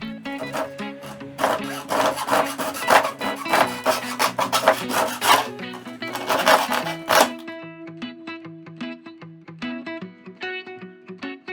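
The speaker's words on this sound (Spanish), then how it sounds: "A cada una de las cajas grandes le voy a quitar un pedazo de uno de los lados, cortándolos con la cegueta o con un cúter." Saw blade rasping through a plastic fruit crate, fast scraping strokes in a dense burst that then thins into lighter, spaced cuts and scrapes, close and loud with no talking.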